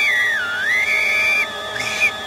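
A person whistles a sustained, wavering melody that glides up and down, pauses, then returns with a short higher note, clear and close with no talking.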